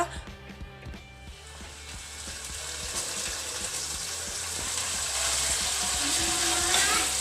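A full chicken breast in pieces sizzles and fries in a pan, a steady bright crackle that grows louder over a few seconds, with some clattering and stirring at first.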